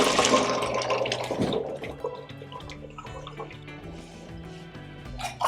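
Water from a pot of boiled potatoes pours and splashes into a sink as they are drained, a close, uneven gush with drips and gurgles that slowly eases off, with no talk.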